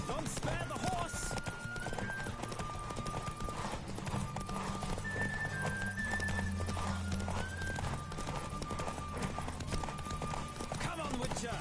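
Galloping hooves of a horse racing in The Witcher 3 pound in a fast, continuous clip-clop, up close and loud, with neighing and voices mixed into the busy race soundscape.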